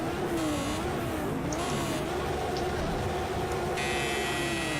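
GT3 race cars at the start of a race at Road America in a video game, a dense, steady drone of engines with shifting pitch and a continuous loud wash throughout.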